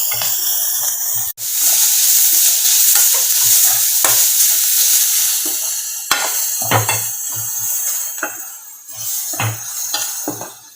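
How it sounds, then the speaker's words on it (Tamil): Grated carrot stirred and sautéed in a pan for Tamil kara paniyaram, a steady loud sizzle with repeated scraping and clinking of a spoon against the pan throughout. "இது கூட துருவி வச்சுருக்க கேரட்டை நம்ம போட்டுக்கலாம். போட்டு நல்லா வணக்கி விட்டுக்கோங்க."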